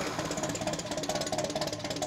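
A rare old engine, one of a kind and under repair, runs steadily with a fast rhythmic chugging beat and a metallic clatter, loud and close, with no voices.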